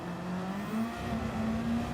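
BMW M4 Group 4 race car in Gran Turismo 7, its engine holding a steady mid-pitched drone that climbs slightly, fairly quiet and heard from inside the car, with no voice over it.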